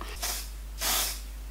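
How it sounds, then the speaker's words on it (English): Two bursts of spray foundation hissing from an aerosol can, a short puff followed by a longer, louder spray, close by with no talking. "Okay, I just sprayed it away from me."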